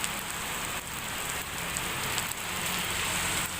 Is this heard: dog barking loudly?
no